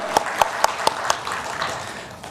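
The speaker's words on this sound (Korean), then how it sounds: "박수하겠습니다." Church congregation applauding during a Sunday worship service, a short burst of a few distinct claps that quickly thins out and fades into the quiet room.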